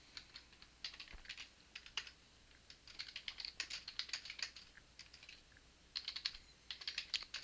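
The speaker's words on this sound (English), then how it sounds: "So we'll type that into our bot" A question being typed on a computer keyboard: quick, close, fairly soft key clicks in uneven bursts with short pauses between, no voices.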